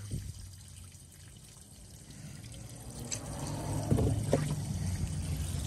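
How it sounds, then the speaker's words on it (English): Water pouring out of the engine of a 1934 Oldsmobile hearse being checked after 80 years, a steady close-up splashing and trickling stream with a low rumble underneath, growing somewhat louder near the end. "That's a good minute of water just pouring out of this thing."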